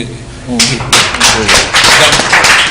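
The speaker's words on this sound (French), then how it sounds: "Vous pouvez applaudir." Audience at an e-sports league general assembly in Thiès breaks into applause after a short lull, dense bursts of clapping that rise and pulse loudly with faint voices beneath.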